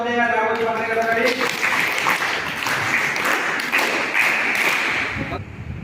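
Audience at a school quiz competition applauds steadily for several seconds, a dense wash of clapping starting over a voice and then carrying alone.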